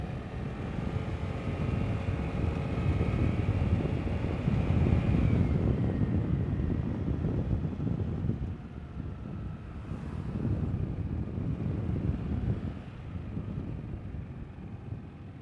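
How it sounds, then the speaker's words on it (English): Vespa GTS 300 Supersport scooter engine while riding, a steady broadband drone with a tonal whine rising in pitch early on, heavily mixed with rushing wind noise against the microphone, continuous and fairly loud throughout. "The Vespa's running good today."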